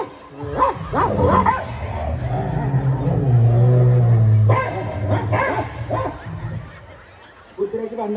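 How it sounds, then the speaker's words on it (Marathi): Dogs bark and snarl in a scuffle, with repeated sharp barks and a drawn-out growling stretch in the middle, mixed with people talking nearby. "कुत्र्याची भांडणं लागली इकडं."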